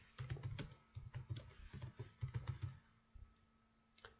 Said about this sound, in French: Donc j'appuie sur Entrée, et j'appuie encore une fois sur Entrée pour laisser une ligne